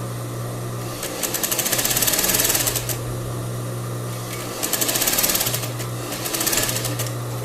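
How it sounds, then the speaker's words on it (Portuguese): A domestic sewing machine stitches the neckline of a crepe bubble ruffled blouse, its loud, rapid needle chatter running in three bursts over a steady motor hum. "Quando você tá costurando na máquina doméstica, você tira a opção do braço livre e aí fica mais fácil de costurar."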